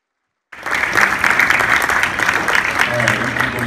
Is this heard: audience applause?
yes